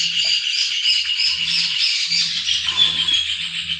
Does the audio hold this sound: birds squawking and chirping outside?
yes